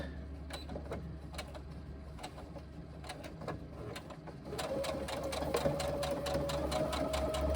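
A home sewing machine stitches a quarter-inch seam along the edge of a reversible tote, its motor whirring steadily under rapid needle clatter that grows louder and faster partway through.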